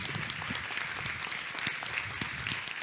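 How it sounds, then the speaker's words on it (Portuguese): An audience applauds at the end of a lecture on innovation and a lawyer's skills, giving a brief burst of dense, steady clapping from many hands in an indoor hall. "desejar mais uma salva de palmas para essa aula que a gente teve aqui hoje"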